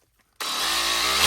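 A cordless sander from a Lidl six-in-one DIY multi-tool set, fitted with a sanding sheet, switching on abruptly after a click and running with a steady close buzzing whine.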